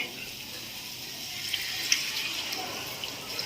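Water pours steadily into a pan of fried minapa vadiyalu curry, a broad hissing splash with a few small clinks, continuous and close.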